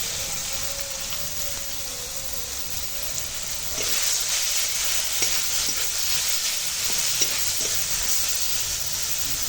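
Whole spices crackle and sputter in hot oil for tempering, with chopped mango and turmeric in the pan. A steady, loud, dense sizzle holds throughout with a few sharp pops, and no talking.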